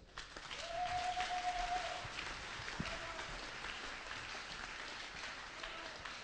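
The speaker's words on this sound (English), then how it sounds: "Somebody clap for Jesus." A church congregation claps together during a prophetic ministration service, a broad swell of many hands swelling early then continuing steadily at moderate distance, with faint voices mixed underneath.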